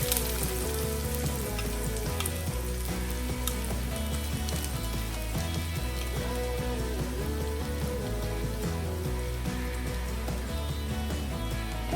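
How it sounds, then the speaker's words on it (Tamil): Onions frying in hot oil with fennel seeds for a yellow pumpkin kurma, a continuous even sizzle with occasional small pops, held steady throughout beneath soft background music. "சோம்பு நல்லா பொரிஞ்சதும் வெங்காயம் ஆட் பண்ணிக்கலாம்."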